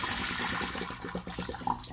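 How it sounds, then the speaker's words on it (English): Water being poured off rice after a second rinse with very warm water, a steady close splashing stream with faint gurgles, heard alone. "So I'm gonna take the water off."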